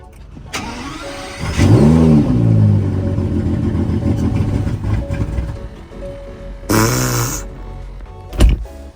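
A van engine cranks and fires up, roaring loudly into a deep rumbling idle, then revs again briefly with a short clunk at the end; no talking.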